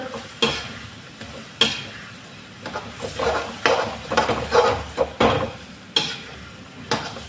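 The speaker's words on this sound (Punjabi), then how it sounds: "ਹੁਣ ਇਹਦੇ ਵਿੱਚ ਪਾਵਾਂਗੇ ਜੀ ਆਪਾਂ ਪਹਿਲਾਂ ਤਾਂ ਮਿਰਚਾਂ ਥੋੜੇ ਜਿਹੇ ਨੂੰ ਮਿਕਸ" Chili peppers stirred in a hot pan after the water has cooked down, giving a loud, close sizzle with repeated scraping strokes of a utensil against the pan in an uneven rhythm.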